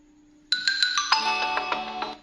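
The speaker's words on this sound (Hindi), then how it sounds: "जबरदस्त इसका साउंड सिस्टम है, स्टीरियो साउंड सिस्टम है इसके अंदर।" A ringtone melody plays from the stereo speakers of a OnePlus Nord N10 5G phone: bright, clear tonal notes in a quick rising pattern that start after a short silence, then shift into a fuller sustained chime before ending.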